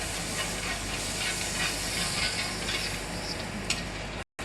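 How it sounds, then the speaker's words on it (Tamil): Butter sizzles in a hot pan before pancakes go in, giving a loud, constant hiss that runs almost to the end and then cuts out briefly. "ஸோ நம்ம ஒரு ஸ்பூன் பட்டரை எடுத்து நல்லா கலர்ஃபுல்லாக ஸ்மாஷ் பண்ணி விட்றோம்."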